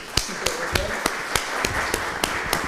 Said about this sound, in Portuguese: Uma salva de palmas aqui para a nossa ajudante.